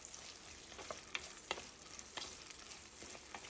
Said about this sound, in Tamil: இப்போ நம்ம கட் பண்ணி வச்சுக்கிற வெங்காயத்தையும் நம்ம சேர்த்துருவோம். அதையும் சேர்த்துட்டு நல்லா இதை வதக்கி விடுங்க.